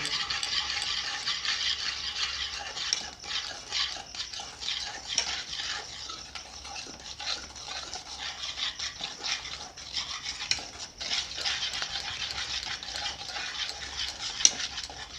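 Egg and powdered sugar being beaten by hand in a bowl for a simple homemade cake, rapid continuous scraping and clinking of the whisk against the bowl, close and steady with brief pauses.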